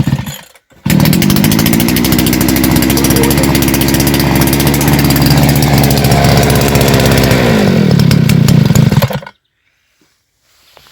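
A petrol earth auger's small two-stroke engine starts up and runs loud and close at a steady high buzz for about eight seconds before cutting out abruptly into silence.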